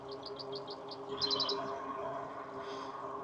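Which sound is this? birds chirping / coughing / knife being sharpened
birds chirping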